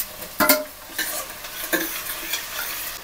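Onions sauté in a pan for crab curry, a soft steady sizzle punctuated by several close scraping stirs of a utensil against the pan.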